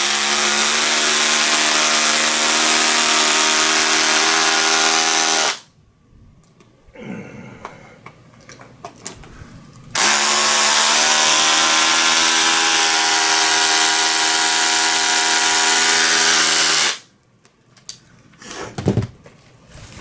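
A power drill drives screws into a T-Bird bass guitar body, whining loud in two long bursts. Quiet handling clicks and rubbing fill the gap between them.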